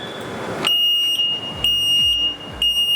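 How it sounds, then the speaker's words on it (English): Electronic beeper on powersports training equipment, sounding as a steady high-pitched tone that pulses in several repeated beeps and continues alone with no voices. "but also a beeper will be activated"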